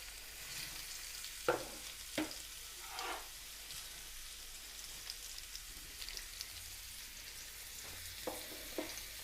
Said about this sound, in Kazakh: аз ғана майда турап алған жаңағы пияз, болгар бұрышы және сабызды қуырамыз